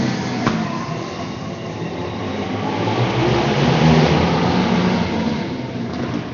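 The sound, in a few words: race cars accelerating at heat race restart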